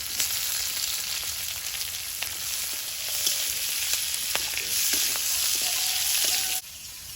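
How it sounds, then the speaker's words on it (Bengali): Panch phoron, slit green chillies and chopped onion fry in oil, making a loud, steady sizzle with occasional pops and stirring clicks that suddenly drops quieter near the end; nobody talks. "তেলের মধ্যে দিয়ে দিচ্ছি পাঁচ ফোড়ন চেরা কাঁচা লঙ্কা পেঁয়াজ কুচি"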